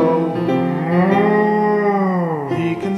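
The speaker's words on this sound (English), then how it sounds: "He can sound like a cow," A children's toy (InnoTab) plays a cow moo, one loud, close, sustained lowing call lasting about two seconds that falls off at the end.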